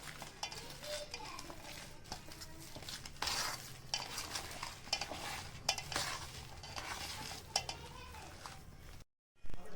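A utensil stirs a filling of green peas and coriander for sandwiches, giving steady scraping and clinking against the pan for most of the stretch, with dish noise and a faint background hum, then a brief silence near the end.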